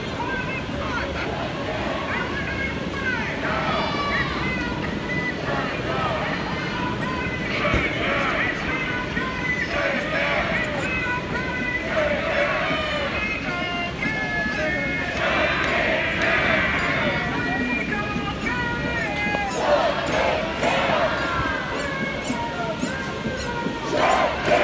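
Protest crowd of a few hundred gathered outside LAPD headquarters at First and Spring in Downtown Los Angeles, a steady din of overlapping voices and chatter with louder calls rising now and then, continuous throughout.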